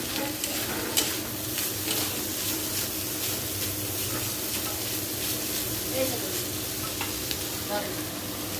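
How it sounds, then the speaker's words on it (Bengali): Shutki, dried fish, frying in a pan with a steady, close sizzle and occasional stirring scrapes, continuous throughout, with faint background household noise. "আমি যে শুটকিটা রান্না করছি"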